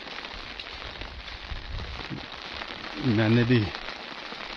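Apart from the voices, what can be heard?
rain falling on umbrellas in Siran Valley, Mansehra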